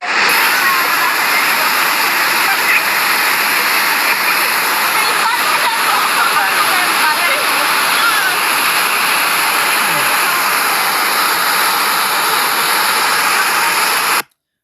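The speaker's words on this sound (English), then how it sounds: "Muddy Water Rapids" Muddy river rapids at Santa Maria, Nicaragua rushing in a loud, steady roar of churning water, unbroken and close from start to finish, with no voices.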